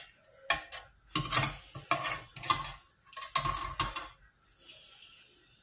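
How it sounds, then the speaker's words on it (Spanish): A frying pan sits on the fire while a tortilla with green pepper is made, with repeated close scraping and clinking strokes of a utensil and a soft sizzle at the end. "Tengo la sartén puesta al fuego para hacer la tortilla"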